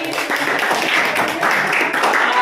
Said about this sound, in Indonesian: tepuk tangan buat Novi